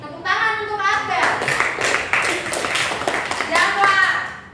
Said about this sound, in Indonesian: Tepuk tangan untuk Abel.